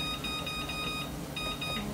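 Kitchen timer in a home kitchen beeping in quick, evenly spaced bursts, two runs separated by a short pause, heard at moderate level over low room noise.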